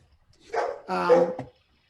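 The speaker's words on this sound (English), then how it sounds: "can you hear him barking like that?" A dog gives two short, close, fairly loud vocalizations, a brief bark-like yelp and then a longer whining bark, before silence.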